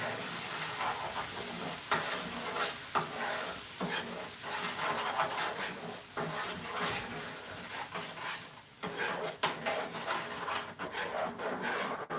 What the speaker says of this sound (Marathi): आता हे सर्व मसाला आपल्याला परतून घ्यायचा आहे